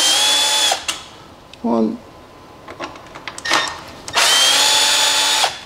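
A power drill backs out the screws holding the beak on a motorcycle (GSA), with two long whirring bursts at the start and end and a brief one in the middle, a short spoken word between them.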